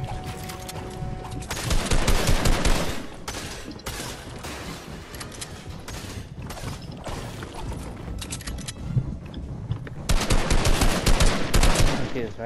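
Rapid automatic gunfire in the video game Fortnite, loud bursts of shots in quick succession with mechanical clicks between volleys, dense and close.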